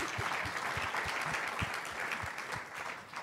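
Audience at a business council luncheon claps in a steady round of applause, a dense patter of many hands lasting the whole moment and easing slightly at the end, with no talk over it.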